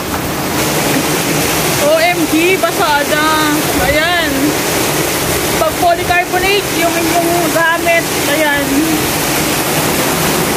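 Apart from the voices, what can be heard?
typhoon rain and strong wind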